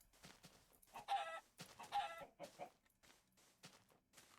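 Chickens cluck and squawk in Minecraft Beta 1.7.3, several short bursts of fowl calls and clucks in an irregular rhythm, close and clear with no talking.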